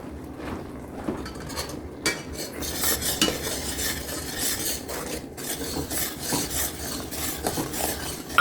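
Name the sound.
stirring pectin and sugar into blueberry jam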